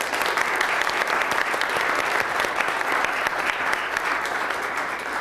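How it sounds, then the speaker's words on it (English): Sustained clapping from an audience at an Oklahoma City city council award ceremony, a steady, even patter of many hands that continues without pause throughout. "How about a round of applause?"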